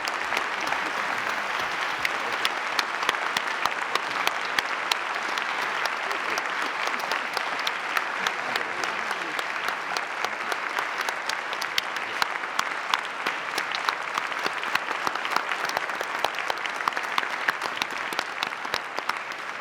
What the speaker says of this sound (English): Please join me in a big round of applause of appreciation for William.